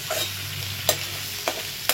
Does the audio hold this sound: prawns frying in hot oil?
yes